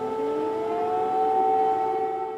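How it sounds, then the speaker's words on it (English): An air raid siren wails over Ukraine during a night of drone attacks, a loud, sustained, steady tone holding for the whole stretch with no voices. "Another night of air sirens, another night of drone attacks."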